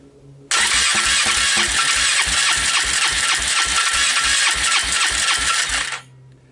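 Polaris Trail Boss 325 ATV engine cranking without catching, a loud, rapid, even chugging of the starter that runs for about five seconds and then stops abruptly.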